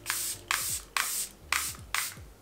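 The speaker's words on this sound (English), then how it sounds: "I want to add a little bit of my setting spray." A makeup setting spray mists onto a face in five evenly spaced, hissing pump bursts about half a second apart, close and clear with no talking.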